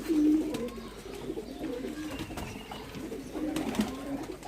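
Pigeons coo in low, throaty, rolling calls at a loft of champion racing pigeons, with two close bursts at the start and near the end and softer murmuring between.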